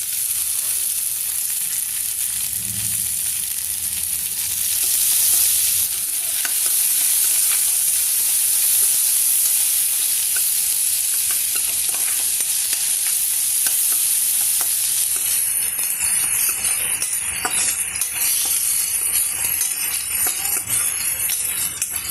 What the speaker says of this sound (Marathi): टोमॅटो 2 ते 3 मिनिट परतलेला आहे.